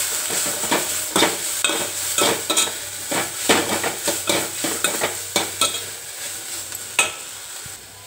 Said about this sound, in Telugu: ఆవాలు జీలకర్ర వేసి ఉల్లిపాయ పచ్చిమిరపకాయలు కరివేపాకు వేసి వేయించి కొద్దిగా వేగాక పెసలు వేసాను ఫ్రెండ్స్.